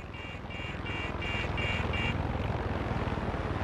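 An aircraft engine in Far Cry 6 drones steadily with a low pulsing throb, while a repeating high beeping warning tone sounds several times and then stops.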